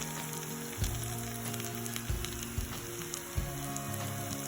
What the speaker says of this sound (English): Then add 2 tablespoons of garlic ginger paste.